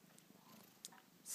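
A cat purring softly up close indoors, a faint, low, continuous rumble with a few small clicks and rustles around it.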